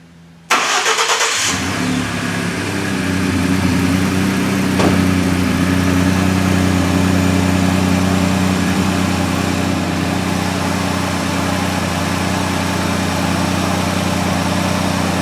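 A 2011 Ford F-150 engine with a stretched timing chain cranks briefly, catches and settles into a steady, loud idle that runs smoothly to the end with no talking.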